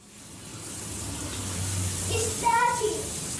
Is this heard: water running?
yes